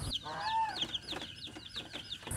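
Newly bought day-old chicks peep in a steady run of high, thin, repeated chirps, close and fairly faint, with no talking over them.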